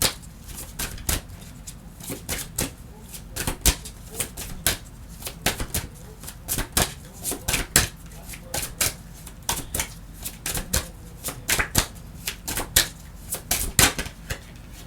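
Tarot cards are shuffled by hand in a quiet room, producing repeated sharp riffling snaps and slaps in irregular bursts, close and crisp, with no talk.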